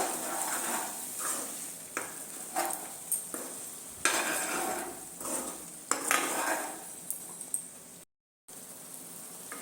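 A spoon scrapes and stirs a mustard spice masala in a pan in uneven, fairly close strokes with a soft sizzle underneath, then a brief dead-silent break near the end.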